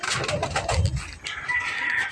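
Pigeons cooing in a low, throaty rumble with a busy, cluttered background and higher chirps mixed in.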